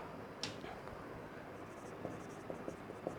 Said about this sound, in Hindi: कुछ मैं ऊपर यहाँ खाली यहाँ लिख देता हूँ इस जगह से